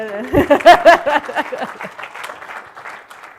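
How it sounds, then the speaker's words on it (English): Applause with a few voiced whoops and cheers from a tech conference audience at a Microsoft Ignite session, loud at first and then thinning out quickly over a few seconds. "You guys can clap."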